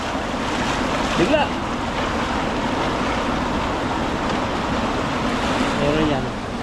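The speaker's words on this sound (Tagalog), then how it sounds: "Lakas na agos dito. Lumakas yung agos ngayon." Strong, rushing water current pours steadily past an old dam in Taiwan, a loud continuous roar with wind buffeting the microphone, as someone speaks briefly over it.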